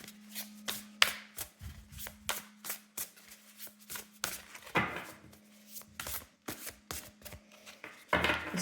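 A thick Modern Goth Tarot deck of sturdy cards shuffled by hand, a string of crisp riffling slaps and swishes repeating in a quick uneven rhythm, close and fairly loud, alone without talk.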